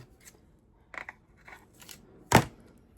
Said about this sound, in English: I'm going to go up under the bottom and I'm going to tape this